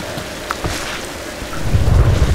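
A thunderstorm in the Tomb Raider 5 video game: steady, dense rain hisses throughout while a deep thunder rumble swells near the end.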